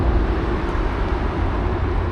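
A low, rumbling roar of a passing light rail train in Chatswood, Sydney, broad and steady over the whole moment, with traffic-like noise mixed in.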